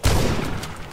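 A shotgun fires in The Last Stand: Aftermath, a single loud, close blast with a low-end thump that decays over under a second, with no talk.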